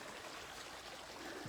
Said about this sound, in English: Our streams are running pretty strong right now.